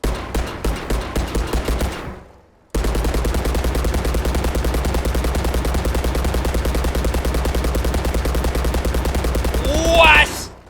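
Rapid bursts of video game gunfire crackle like firecrackers, first in short spaced volleys, then a long continuous rattling stream after a brief silence.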